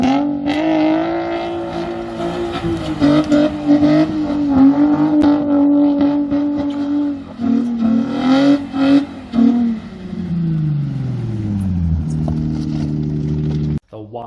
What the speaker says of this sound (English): a quick clip of a friend's car doing some ripping donuts in the yard